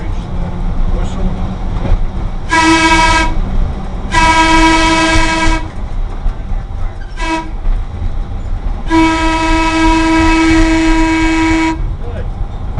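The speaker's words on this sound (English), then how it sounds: "And if you can reach the whistle." Locomotive 639 sounds its whistle close by: four loud, steady chime blasts, two medium, one very short and a final long one, over a low engine rumble.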